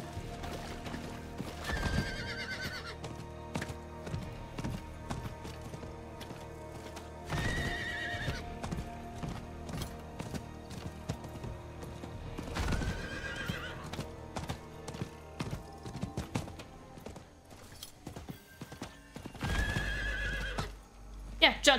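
Horse hooves clopping at a gallop in the video game Diablo IV, with several loud neighs and whinnies spaced a few seconds apart, over steady game background sound.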